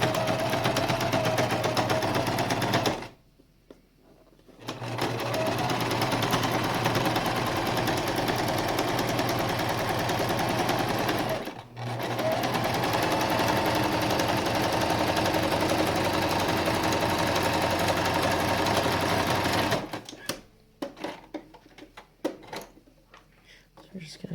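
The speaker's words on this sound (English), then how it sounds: "we're going to back stitch on the edges where we're sewing the masks in" A sewing machine back stitches along the edges of cloth masks in long, steady, close runs, with a short pause early on and a brief break midway, ending in a few scattered handling clicks.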